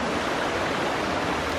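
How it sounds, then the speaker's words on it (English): Continuous broadband rushing of Scale Force, the highest-drop waterfall in the Lake District, steady and loud throughout, with no voices. "the tallest dropped waterfall in the Lake District"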